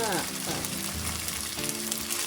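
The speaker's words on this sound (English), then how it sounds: "So why do we fry the pepperoni?" Sliced pepperoni frying in a hot pan for fettuccine Alfredo, a loud continuous sizzle and crackle close by with some stirring, no talking.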